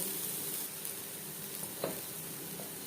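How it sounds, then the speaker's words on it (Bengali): Onions fry with turmeric powder in a pan for a Bengali sarputi fish curry, giving a soft, steady, faint sizzling hiss with no voices. "পরিমাণ মতো হলুদের গুঁড়ো পেঁয়াজ হালকা করে ভেজে নেব"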